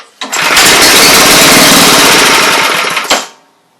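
A 5 HP Briggs and Stratton small engine fitted with a replacement carburetor starts with a sharp pop and runs at a loud, steady, buzzing roar for about three seconds, then cuts out with a final bang and dies away.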